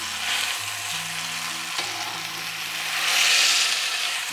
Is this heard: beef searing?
yes